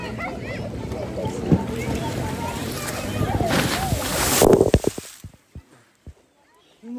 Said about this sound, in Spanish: Salpica bien machito